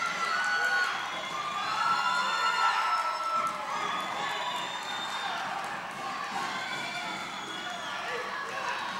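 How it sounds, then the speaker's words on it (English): A high school wrestling crowd cheers and shouts steadily throughout a 1996 gym match, loud and continuous, with a commentator's voice running underneath. "Crowd really getting into this."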